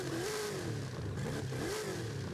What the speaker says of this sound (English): Let's rev this thing.